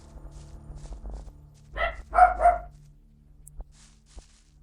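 A dog barks a few times in quick succession at mid distance, loud against a quiet room with a low hum.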